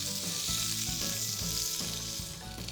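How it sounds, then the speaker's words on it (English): Steady, dense sizzling of olives frying in a pan, close and continuous with a faint low hum underneath, no voices. "Just warming them up in a frying pan liberates all of their oils and all of their fragrances"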